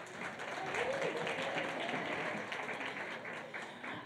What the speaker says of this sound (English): So let's give that a huge round of applause.